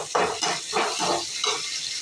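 A large sliced onion hits a hot pan where fish is already frying, giving a loud, close sizzle broken by rhythmic stirring and scraping strokes.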